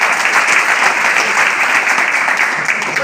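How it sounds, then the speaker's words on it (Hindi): NSS students at a traffic-rules training session clap for themselves, a loud, steady burst of hand-clapping from a crowd that holds evenly for a few seconds. "बढ़िया से ताली बजाइए अपने लिए।"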